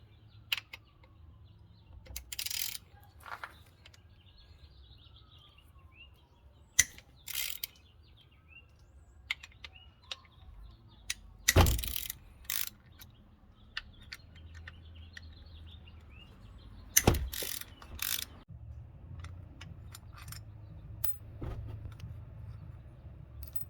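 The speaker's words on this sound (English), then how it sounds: "All I'm going to use is a 3/8 drive ratchet and a 6mm Allen socket here" A 3/8-inch drive ratchet fitted with a 6mm Allen socket removes bolts from an engine snub mount on a 2004 Audi A4 1.8T Quattro. Sparse, close clicking bursts come between quiet stretches, with faint birds in the background.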